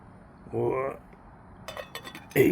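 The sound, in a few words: washing dishes, clinking cutlery and pots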